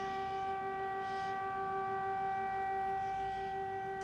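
A steady, sustained air raid siren wails at a constant pitch for several seconds, fairly faint and distant, holding one tone throughout without rising or falling.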